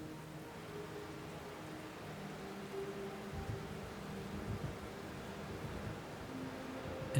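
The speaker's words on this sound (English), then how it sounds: "it's been dark, but rain has still been coming down this whole time." Steady rain keeps falling on a small cottage in the dark, a soft continuous hiss with a low rumble that holds even and unbroken throughout.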